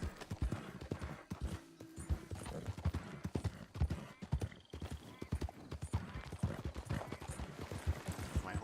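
Horse hooves clip-clop steadily in a Western video game set around Saint Denis, a rhythmic run of close hoofbeats with an occasional whinny and some low talk mixed in.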